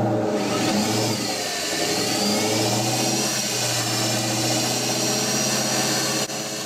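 Ford Mustang driving with a worn ABS reluctor ring sending a noise through the drivetrain, a steady loud engine drone with a rising whine and faint cyclic rumbling throughout, no voices.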